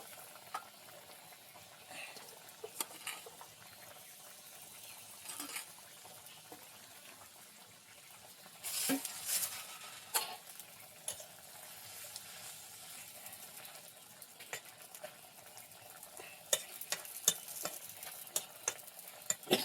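Taro stolons are added to spiced river fish frying in a pan and stirred, a quiet sizzle broken by scattered scraping and clattering utensil strokes that cluster more densely toward the end, with no one speaking.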